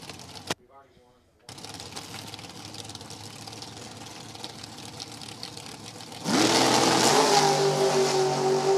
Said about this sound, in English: Another American chassis car.